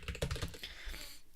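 Rapid keystrokes on a computer keyboard, close and clear, a quick irregular run of clicks tapering off at the end.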